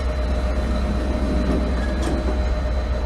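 An Amtrak ACS-64 electric locomotive in Train Sim World 2 sits stopped at a station, giving a steady, dense low rumble and hum with a faint high whine throughout.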